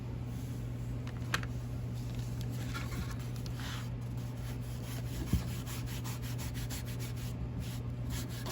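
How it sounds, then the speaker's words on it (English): A paint-loaded sponge swiped back and forth over a small craft figure makes a soft, steady rubbing that runs continuously and faintly, with no talking over it. "I'm just swiping back and forth. I don't have a lot of paint on my sponge."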